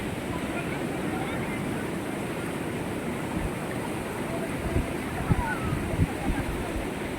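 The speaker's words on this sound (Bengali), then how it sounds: "কিছুক্ষণ তোমরা শুধু এই সমুদ্রের আওয়াজটাই শুনতে থাকো" Sea waves breaking on a beach on a rainy day, a steady close roar of surf and wash that continues throughout, with a few heavier crashes toward the end.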